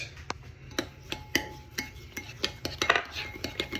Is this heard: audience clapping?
no